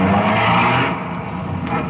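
Police cars pull out of a police garage in a 1950s-style radio crime drama, a loud continuous engine roar with a brief tire squeal that eases slightly midway.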